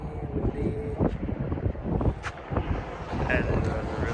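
Steady wind gusts buffet the microphone beside a lake near Hoover Dam, a loud continuous rumbling roar with no break, while someone speaks underneath.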